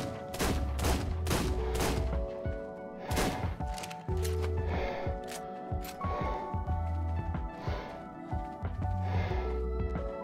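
Rapid bursts of gunfire from a video game in the ARK series, loud and close, with repeated volleys and short pauses between shots over steady background game ambience.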